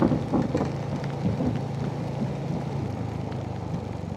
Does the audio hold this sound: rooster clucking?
no